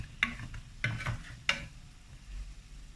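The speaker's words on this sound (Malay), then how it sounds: "Menggoreng donat ni memang cepat." Doughnuts frying in hot oil give a continuous soft sizzle, broken by a few sharp clinks and scrapes of a utensil against the pan as they are turned, close and fairly quiet.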